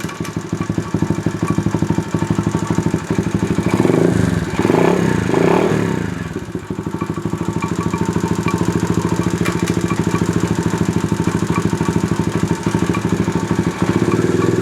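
A small pit bike engine runs steadily in gear on a paddock stand during a check for a gearbox problem. The close, loud, continuous buzzing drone stays even throughout, with a brief dip in the middle.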